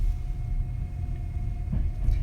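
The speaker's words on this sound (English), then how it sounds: "That's the train going the other way towards Aizu Wakamatsu." A train on a Japanese rail line heading toward Aizu-Wakamatsu rolls past with a steady low rumble and faint rail clatter, heard from a nearby station.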